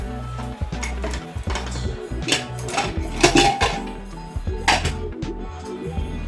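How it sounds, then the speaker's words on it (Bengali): A pressure cooker lid being opened after cooking bottle gourd and mung dal, with close metallic clanks and clatter in irregular knocks and scrapes, with no talk. "এখন আমি প্রেসার কুকারের ঢাকনাটা খুলে নেব।"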